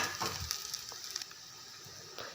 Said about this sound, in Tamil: பெரிய வெங்காயத்தை வந்து நான் உள்ளே போடுறேன். அந்த வெங்காயத்தை உள்ளே போட்டதுக்கப்புறமா நல்லா வதக்கி விடுங்க.